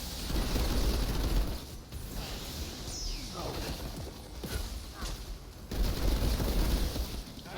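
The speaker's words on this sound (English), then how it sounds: "Eat some grenades!" Grenade explosions and gunfire in the video game Outriders: dense rolling bursts of shots and blasts, loud at the start and again near the end, with a lull in between.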